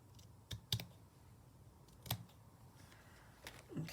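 Scissors cut through fabric with a few sharp, close snips spaced over a few seconds at a quiet craft table, each a brief crisp click against near silence.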